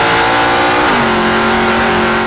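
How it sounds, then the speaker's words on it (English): A 1975 Holden LH Torana with a 303 stroker engine revs loudly up close, its raw mechanical roar holding high and then stepping down in pitch before sustaining. "This is my LH 1975 303 Stroker."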